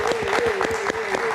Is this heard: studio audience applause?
yes